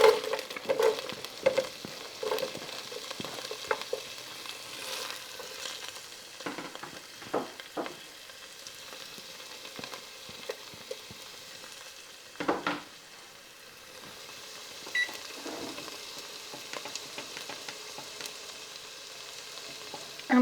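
Onion sautéing in a pan after beef has been browned, for beef stroganoff soup: a soft, steady sizzle with repeated scraping and stirring clicks of a utensil, moderately close, no talking.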